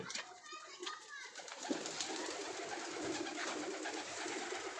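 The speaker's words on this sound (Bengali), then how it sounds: "এই যেগুলো কালারিং কবুতর কয়েকটা বাচ্চা" Colored pigeon chicks coo softly nearby amid chirps and chatter, with a voice and background voices mixed into the busy indoor ambience.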